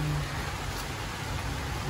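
Heavy rain falling in Brazil, a steady dense hiss of downpour that fills the whole short stretch with no pauses and no voices.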